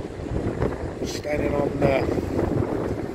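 Steady wind buffets the microphone with a low roaring rush at Preston sands on a rough day, while a person speaks briefly over it.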